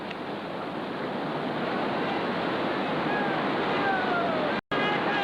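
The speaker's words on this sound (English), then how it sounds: "and into the white water." White water rapids on a river roar as a boat is carried into them, a broad steady rush of churning water, fairly loud and continuous with a brief dropout near the end.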